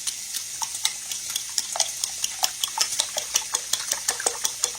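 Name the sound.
beating eggs with a fork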